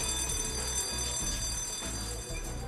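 School fire alarm bell ringing, a rapid metallic clatter repeating in short bursts, steady and moderately loud with no voices.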